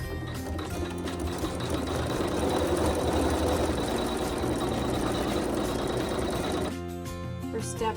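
A Brother Navigator sewing machine runs a decorative zigzag stitch through fabric, a fast steady mechanical whir with rhythmic needle clatter that stops abruptly near the end, leaving a quieter room.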